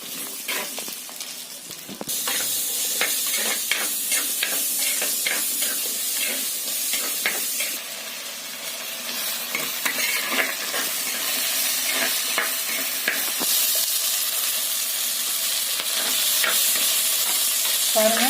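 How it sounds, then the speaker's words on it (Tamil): Fennel seeds and shallots sizzle loudly in hot oil in a pan for white kurma, a bright continuous hiss with repeated scraping stirs throughout, close and unaccompanied by talk. "நல்லா ஃப்ரை ஆகட்டும்,"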